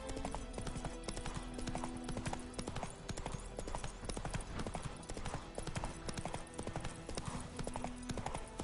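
Steady clip-clop of a horse's hooves at a trot in the video game The Witcher 3, an even, continuous rhythm over game ambience with occasional snorting and faint voices.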